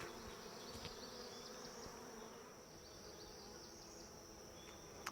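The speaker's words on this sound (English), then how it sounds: "Bees fanning, and they point their abdomen up and then turn the tip of their tail down, exposing the Nasonov gland." Honeybees fanning at a swarm catch produce a faint, steady insect hum outdoors, continuous and fairly distant, with a few brief buzzing passes of individual bees.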